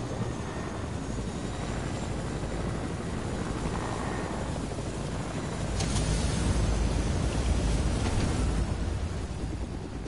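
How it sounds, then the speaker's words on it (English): Helicopter in a video game, a steady loud rotor and engine drone that runs the whole time without a break and swells slightly near the end, with no talking. "I need that helicopter."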